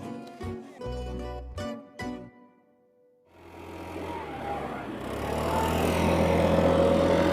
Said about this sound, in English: Why are they using a leaf blower in May?